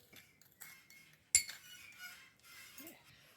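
A spoon stirs a baking soda paste in a bowl for a homemade teeth-whitening mix, giving soft scraping and tapping against the bowl with one sharp clink, quiet and close.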